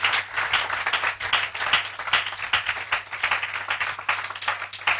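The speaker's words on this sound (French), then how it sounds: "Donnez une bonne main d'acclamation au Seigneur." A church congregation applauding during a French-language sermon, many hands clapping in a lively, uneven rhythm that swells and dips, fairly close and loud, with a low steady hum underneath and no speech.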